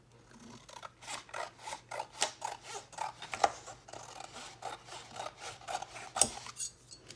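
Scissors trimming paper for a mini album cover, a steady run of crisp snipping cuts, close and fairly quiet, with a sharper snip near the end.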